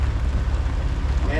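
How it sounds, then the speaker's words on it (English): Rain pours onto the open sea surface around a sailboat caught in a squall, a dense, steady hiss of drops on water with a low rumbling undertone throughout. "you can see the rain hitting the water here"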